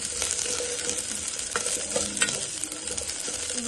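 Small onions, tomato, urad dal and curry leaves fry in hot oil for onion chutney, a steady dense sizzle with a few soft stirring scrapes, close and continuous with no voices.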